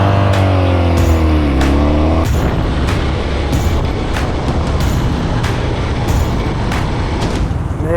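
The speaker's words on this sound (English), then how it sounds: "This bike is running amazing" A 46-year-old Honda motorcycle engine runs loud and steady while riding, opening with a brief rising tone before settling into a rough, continuous roar under wind noise.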